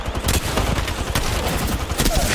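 Rapid gunfire bursts in the Apex Legends battle royale, played as Bangalore in Season 11, crackling loudly and densely through the whole stretch, with a voice faintly in the mix.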